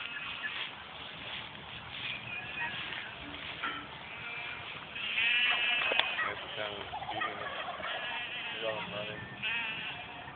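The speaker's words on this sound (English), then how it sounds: "There's the turkeys again, Goji." Turkeys on a farm alongside sheep: repeated gobbling and bleating calls overlap in a busy animal chorus, near and fairly loud, with a person talking over parts of it.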